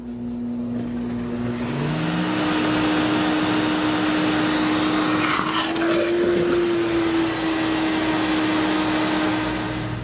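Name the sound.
Sirena water-filtration vacuum running as wet pickup vac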